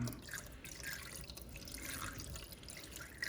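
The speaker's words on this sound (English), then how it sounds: "So I'm gonna pour the water over the top." Water poured over coffee grounds to make cold brew, a soft continuous splashing trickle heard close up and alone, with no talking.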